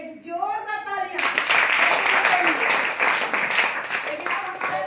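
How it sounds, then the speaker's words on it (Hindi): A live audience breaks into a burst of dense, sustained applause during a talk about the spirulina health product, after a voice speaks briefly at the start. "आप दीजिए स्पोरुलिना के लिए एक जोरदार तालियां।"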